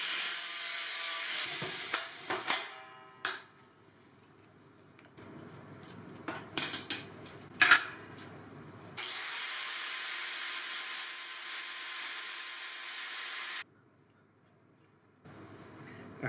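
Bolts are cut shorter for a sword build, with bursts of rasping, scraping strokes, sharp metallic clicks and knocks, then a long, steady sawing grind before a pause and a brief return.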